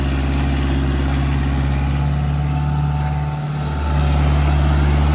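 Kubota MU4501 tractor engine running steadily while pulling a 10-foot rotavator, a loud, constant low drone with a strong rumbling hum and a brief dip near the end before it picks back up.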